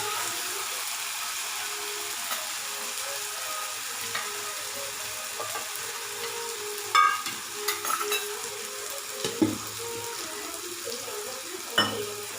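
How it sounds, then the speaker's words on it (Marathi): Spice masala sizzles softly in a pan for a rustic goat brain bhaji, a steady low frying hiss with occasional stirring clinks and scrapes, heard alone without speech. "हा मसाला चांगला भाजत आला की नंतर मग मेंदू टाकायचा।"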